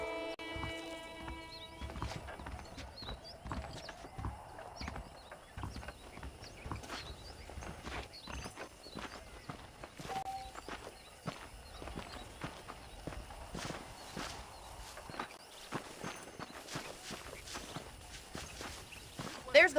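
Horse hooves clip-clop in the Red Dead Redemption video game, a steady rhythmic patter of footfalls running throughout beneath ambient game sound and speaking voices.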